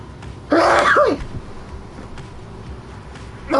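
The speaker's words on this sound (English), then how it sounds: "I gotta sneeze." A single loud, sharp human sneeze bursts out, followed by quiet room noise and a faint breathy sound at the end.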